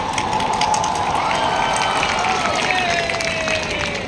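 Audience applause at VIT Riviera 2025, a dense, steady crowd clapping throughout, loud and sustained, with a tonal whistle or cheer gliding over it.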